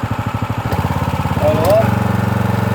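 Brand-new engine on a Champion 3200psi pressure washer idling with a steady, even chug, close and loud, and a brief squeaky noise partway through.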